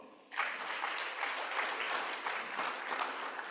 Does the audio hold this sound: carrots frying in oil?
no